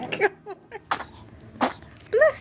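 A baby sneezes at home, with two or three short, sharp bursts spread over a couple of seconds, close to the microphone. Adults and the baby's own small vocal sounds are heard around the sneezes.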